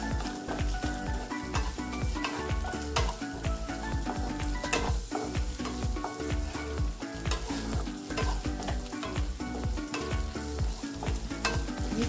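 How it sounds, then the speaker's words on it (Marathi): Ginger garlic paste frying in hot oil with onions, stirred continuously; a steady, loud sizzle runs throughout with repeated scraping strokes of the spoon against the pan. "ते आता आपण अद्रक लसणाची पेस्ट घालून घ्यायची आहे."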